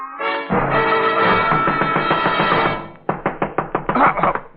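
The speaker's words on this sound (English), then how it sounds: "somebody was knocking on my door" Knocking on a door in a radio drama: a sustained tonal passage gives way to a run of sharp, evenly spaced knocks, close and fairly loud, with no speech.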